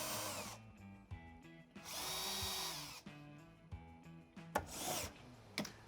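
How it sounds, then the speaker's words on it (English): A power drill whirs in repeated short bursts, bogging and revving as it bores holes through a template into wood, with clunks and pauses between holes. "Now I can just put this template in here, drill all the holes."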